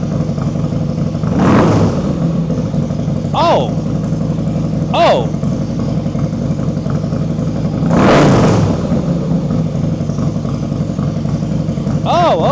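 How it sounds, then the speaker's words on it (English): Engine revved in several sharp bursts, each rising and falling quickly, loud and close over a steady idle, with short excited exclamations from a person between revs. "I'm gonna rev it, see what it sounds like"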